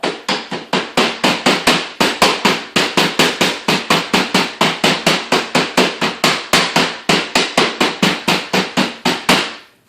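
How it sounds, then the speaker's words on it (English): Rapid, steady hammer blows pounding nuts, over and over, dozens of sharp, loud thuds in an even rhythm with no talking. "it's going to be too much nuts after I pound it"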